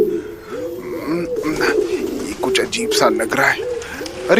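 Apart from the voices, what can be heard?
pigeons cooing in an old mansion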